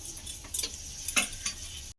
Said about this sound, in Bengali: তো দেখুন বন্ধুরা, এইভাবে আমি ভেজে নেব, নিয়ে আমি এটাকে উল্টে দেব